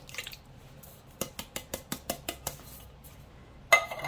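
Diced tomatoes from a can knocked and scraped into a slow cooker of chicken chili, a quick run of about seven even metallic taps followed by a louder clatter at the end, close and without talk.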